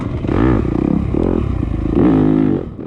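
Enduro dirt bike ridden hard along a wooded sprint enduro test, its engine loud and close throughout, revving up and down in continuous surges with rattling clatter from the rough trail.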